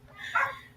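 A neighbour's dog gives a single short bark from next door, moderately distant and brief, with faint background noise around it.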